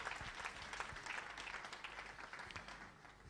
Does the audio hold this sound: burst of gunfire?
no